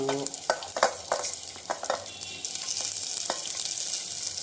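Onions with dried red chillies and fenugreek seeds frying in a little oil in a pressure cooker, a close crackling sizzle broken by several quick stirring scrapes and taps, then a steady hiss.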